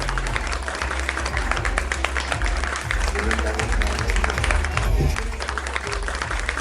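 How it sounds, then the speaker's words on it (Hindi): Audience applause at an art and culture award ceremony in Delhi, a steady dense patter of clapping throughout, mixed with a low hum and some voices in the room. "कम ऑन जोर से तालियां हो जाए"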